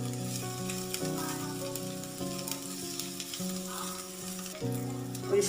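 Chopped cabbage sizzles and fries in hot oil, a continuous crackling hiss with occasional stirring scrapes, close and clear, while background music plays.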